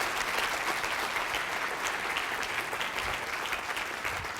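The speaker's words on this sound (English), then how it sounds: "let's give a big round of applause to Bob Percisepi." An audience at the 2017 Little Rock, Arkansas Sustainability Summit applauds a speaker with loud, sustained clapping that fills the room evenly for several seconds.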